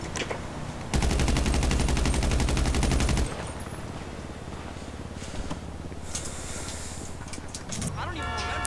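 A gun fires a loud, fast automatic burst lasting a couple of seconds in the video game GTA V, followed by quieter game ambience and talking.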